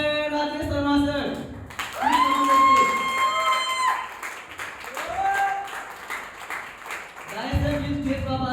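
An audience at a stage event applauds Mr Rajesh Sharma with steady, crowded clapping and some cheering, while loud voices ring out over the applause.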